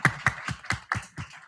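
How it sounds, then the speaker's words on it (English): Applause from an audience for a panel of speakers, heard as a short run of about six separate, evenly spaced claps rather than a full crowd roar, with no talking over them. "can we just give a warm round of applause for our panelists"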